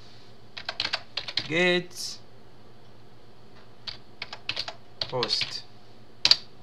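Keys tapped on a computer keyboard while entering a PowerShell command, in short irregular bursts of quick clicks separated by pauses, close and fairly crisp, with someone speaking briefly between them.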